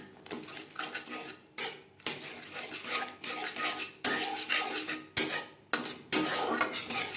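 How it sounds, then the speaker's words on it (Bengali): Metal spoon scraping and clinking against a pan while yogurt is mixed into cooked-down spices for a capsicum curry over a very low flame, repeated close stirring strokes with brief pauses, no talk. "মশলার সাথে বেশ ভালো করে মিক্স করে দেবো"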